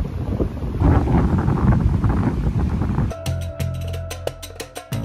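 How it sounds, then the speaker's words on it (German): A strong stormy wind off the open sea on Sardinia roars and buffets against a camping tent. A dense gusty rush gives way to sharp, irregular flapping and rattling bursts. "Mann, ist das stürmisch an der offenen See."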